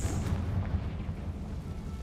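A Confringo blasting-spell explosion from Hogwarts Legacy rumbles through, a deep, low booming blast that rolls on for a couple of seconds, fairly quiet with no talk over it.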